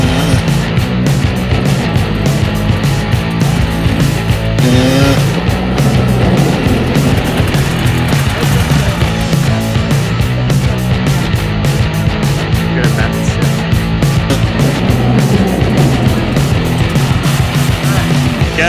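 An enduro dirt bike ridden in a straight line, the engine buzzing loud and close with a rough, pulsing rev and a brief rise in pitch partway through, no talk over it.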